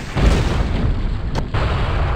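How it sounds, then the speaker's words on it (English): Heavy cannon booms in the video game Gun, fired from a keelboat, a deep blast near the start and another sharp report partway through, over a constant loud rumbling din. "Someone get to that cannon on the keelboat tied to us."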